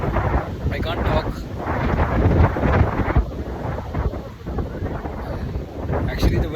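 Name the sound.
wind blowing into microphone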